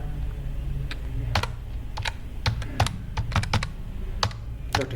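Fingers tap out C code on a computer keyboard, a close run of quick, uneven keystrokes with short pauses between bursts, alone with no talk.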